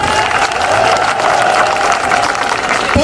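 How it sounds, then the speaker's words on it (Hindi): Dense, steady applause from a big crowd at a political rally in Karachi, continuous and fairly loud for the whole stretch, with a brief thump near the end. "अमरीन मलिक के लिए तालियां"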